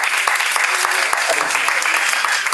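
A church congregation bursts into steady, dense applause, loud and close, filling the space without pause, with voices mixed into the clapping.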